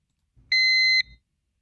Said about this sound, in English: That's the fire alarm downstairs.